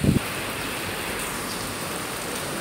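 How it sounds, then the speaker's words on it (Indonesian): Heavy rain pouring in Hong Kong with strong wind: a dense, steady hiss of rainfall on surfaces, opening with a brief low thump. "Hongkong dari kemarin itu diguyur hujan teman-teman ya"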